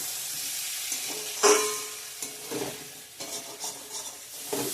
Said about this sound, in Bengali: পটল আলু দিয়ে ডিমের ঝোল রান্না করছি বন্ধুরা